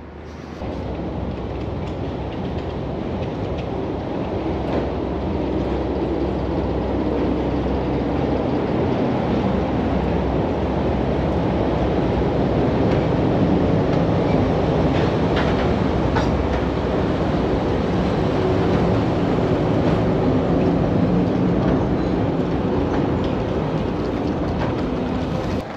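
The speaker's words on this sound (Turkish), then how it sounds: "Trenimiz geldi." A passenger train pulls into a station in Russia with a steady, loud rolling rumble and faint rail clatter that carry on unbroken throughout.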